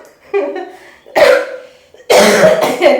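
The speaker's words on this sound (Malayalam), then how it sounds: "ചുമ" Harsh, breathy bursts of coughing from a person with a persistent cough, close and fairly loud: one short burst near the middle, then a longer, rougher fit at the end, after a brief throaty vocal sound.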